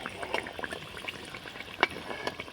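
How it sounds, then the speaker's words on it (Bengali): Mung dal poa pitha fritters deep-fry in oil over medium heat with a close, steady bubbling sizzle and scattered small crackles and pops. "আর মিডিয়াম আঁচে কিন্তু ভেজে নিতে হবে।"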